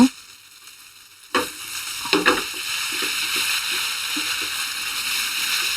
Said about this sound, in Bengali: ফার্স্টে বিফটা একটু ভেজে নিতে হবে